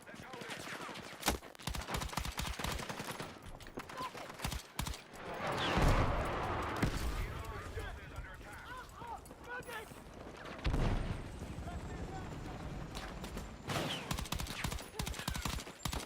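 Burst-fire gunshots in Battlefield 6, with sharp clusters of rapid shots repeating throughout amid heavier booms and explosions, loud and close.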